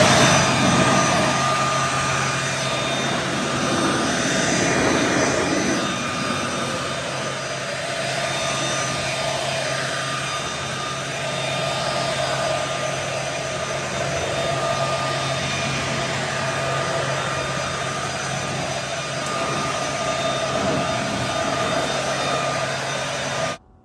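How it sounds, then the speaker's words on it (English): A battery-powered electric leaf blower blasts air over a 2020 Tesla Model Y with clear paint-protection wrap, a steady, loud whooshing roar with a constant motor whine that runs unbroken for the whole span, with no talking. "a blower for the lawn"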